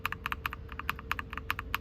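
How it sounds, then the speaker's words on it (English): Mechanical keyboard with Wisteria switches and swapped keycaps being typed on in quick, slightly uneven bursts of crisp clacks, heard close and fairly quiet over a low background hum. "the switches I have are called Wisteria, and they make it sound like this with these keycaps"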